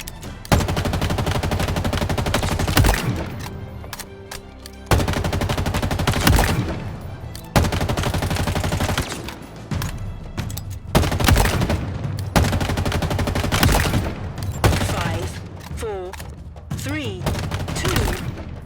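Assault rifle gunfire at a shooting range in Halo Infinite, with repeated loud bursts of automatic fire against AI bots, broken by short pauses and mixed with game effects and a faint voice.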